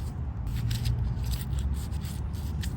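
A blade cuts through the root clump of a blue mouse hosta being divided, making a close, dense scraping and crunching sound that rasps steadily for a few seconds.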